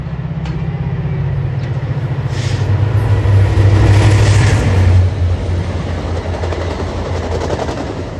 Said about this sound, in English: Here comes a Via train.